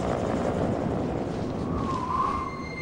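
Helicopters lift away from a remote camp on the Greenland ice sheet, a steady broad rotor and engine roar holding at one level throughout, with a brief whining tone rising near the end.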